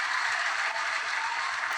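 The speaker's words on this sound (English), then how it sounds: "Everybody give him a round of applause" Studio audience applauding a guest from Fox News, a soft, steady wash of distant clapping with no voices over it.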